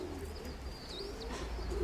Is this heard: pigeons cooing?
yes